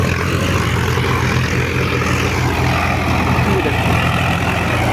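A Sonalika 745 tractor engine driving under load through soil, a steady loud diesel drone with a low throbbing rumble that holds constant throughout.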